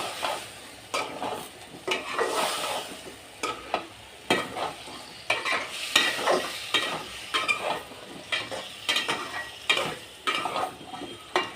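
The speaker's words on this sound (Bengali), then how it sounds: "পটল আলু দিয়ে এই যে মশলার সাথে এখন কষিয়ে নিচ্ছি।" Pointed gourd and potato frying with spices in a pan, a continuous sizzle under repeated stirring and scraping of a spatula against the pan, close and steady, with no talking.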